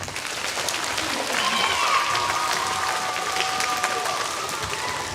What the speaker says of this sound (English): Okay, everybody give Brooks a big round of applause.